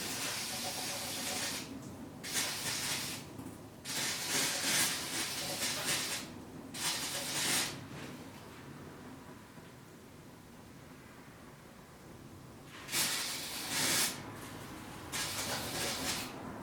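Close aerosol spray hisses in several short bursts, separated by brief quiet pauses, with a longer gap before the final sprays.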